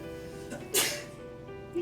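A single quick sneeze bursts out over a faint background of game music.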